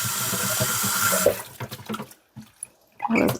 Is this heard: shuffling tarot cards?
no